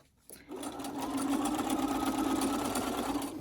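A sewing machine back stitches a seam on a zippered fabric project bag, starting after a brief pause and settling into a loud, close, continuous rapid whirring hum.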